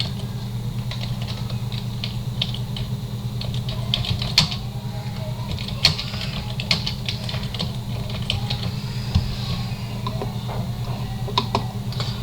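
Scattered light keyboard taps and clicks sound faintly over a constant low electrical hum, with sporadic typing on a computer keyboard and no talking.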